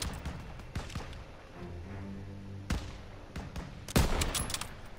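Gunfire in the World War II shooter Call of Duty WW2, with several sharp, loud shots scattered through the battle, one of them a heavy blast near the end, over a low rumbling backdrop.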